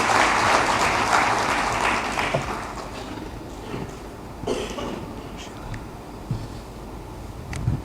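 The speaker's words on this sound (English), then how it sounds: "can we have a very warm round of applause for the young man" Warm applause from a conference audience greets a young speaker making his debut, loud and dense at first, then thinning into scattered claps.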